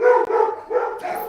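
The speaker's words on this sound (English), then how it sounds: "Sorry for the dog barking." A dog barks indoors in a quick run of three or four sharp, fairly loud barks, close by and with no talk over them.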